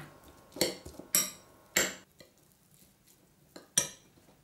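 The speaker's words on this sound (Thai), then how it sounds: "นำรากผักชีกระเทียมพริกไทย ที่เราโขลกไว้ มาผสมกับหมูสับค่ะ เหยาะซีอิ๊วลงไปสักหน่อยหนึ่ง จากนั้นคลุกเคล้าให้เข้ากันค่ะ" Minced pork with pounded coriander root, garlic, pepper and soy sauce is mixed in a bowl, heard as several sharp utensil clinks against the dish in an uneven rhythm, close and fairly quiet.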